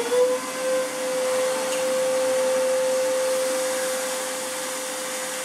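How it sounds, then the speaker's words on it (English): A steady high-pitched grinding whine from shaping parts for a friction folder knife, holding one sustained tone for several seconds after a brief rougher start, close and moderately loud with no talk. "I'm going to grind down this just a little bit."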